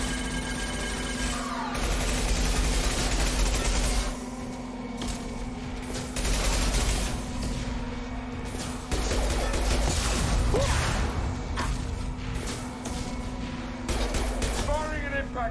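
Impact shot gunfire from Mass Effect 2 lands in repeated loud blasts and crashes over constant combat noise, with a voice talking in between.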